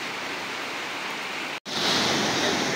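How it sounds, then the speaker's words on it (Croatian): The flooded Pojnica river in Bosnia and Herzegovina rushes after a severe storm, a loud, continuous roar of fast water with one brief dropout before the torrent resumes even louder. "Ovo je rijeka Pojnica."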